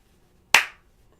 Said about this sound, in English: Oh, I thought we were clapping together.